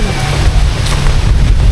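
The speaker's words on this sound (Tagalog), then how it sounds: "Sarap ng hangin" Steady low rumble of wind buffeting the microphone, loud and continuous throughout, with no voices.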